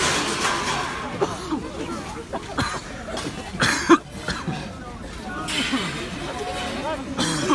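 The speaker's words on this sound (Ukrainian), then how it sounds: "Бачите, всі кашляють від газу." Several people cough repeatedly from tear gas during a street clash between nationalist activists and police in Cherkasy, harsh coughs scattered through the crowd amid shouting and general commotion, with voices talking throughout.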